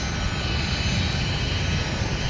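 Airliner taking off from runway 17 at MSP airport, a continuous loud, broad engine roar filling the short span without pause.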